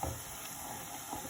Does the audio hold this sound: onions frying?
yes